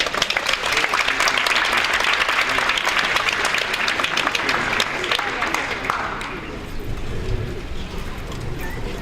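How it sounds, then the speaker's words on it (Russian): Conference audience applause fills the hall as a speaker is invited to the stage, dense close clapping for about six seconds, then thinning to scattered claps and room murmur. "Можно продолжать аплодировать."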